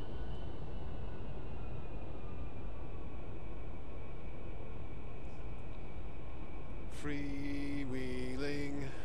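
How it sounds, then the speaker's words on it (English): An aircraft engine in a flight simulator game throttles back, a steady droning hum with slowly falling pitch filling the clip before a brief burst of musical tones joins near the end. "Throttling back to get the speed down. Throttle right off."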